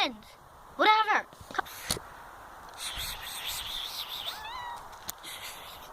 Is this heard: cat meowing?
yes